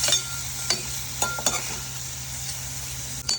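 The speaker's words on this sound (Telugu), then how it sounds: "కొంచెం కారం వేసి వీటిని బాగా ఫ్రై చేసుకోవాలి." Paneer pieces frying with chili powder in a pan give a steady close sizzle, broken by a few sharp clinks and scrapes of a spoon against the pan.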